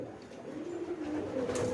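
Pigeons in a loft give soft, repeated low cooing, a steady murmuring warble close by that swells and rises toward the end, with no voices over it.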